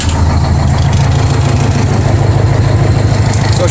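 A lifted 4x4 fire engine's engine idles rough and uneven, not firing on all cylinders, a steady loud low rumble with a loping pulse running throughout.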